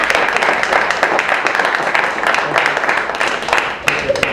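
An audience claps at a jazz clinic for a high school jazz band at the 2016 Newport Jazz Festival: dense, steady applause that fills the whole stretch, with crowd voices mixed in.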